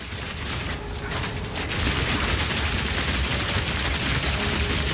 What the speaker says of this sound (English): Help me, turrets!